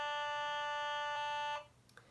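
A steady electronic tuning drone tone with rich harmonics, used for oboe practice, holds evenly for about a second and a half, then cuts off, leaving faint room noise and a small click.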